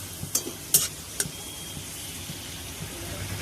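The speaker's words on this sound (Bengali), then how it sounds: "এটা কাজু কিশমিশটা ভাজা হয়ে গেছে" Cashews and raisins fry in oil with a soft, steady sizzle. Three or four sharp spoon clinks and scrapes land in the first second, then the sizzle carries on quietly.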